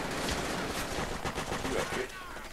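Gunfire in the video game Call of Duty: World at War, with rapid bursts of shots crackling fairly faintly over a busy game background.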